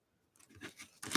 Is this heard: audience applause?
no